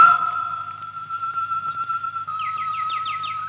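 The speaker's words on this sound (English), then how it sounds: "I went into the aviary as she suggested, and I listened to the birds." Birds sing in an aviary as a 1952 radio drama sound effect: steady faint whistling tones, with a run of quick repeated chirps joining in over the second half.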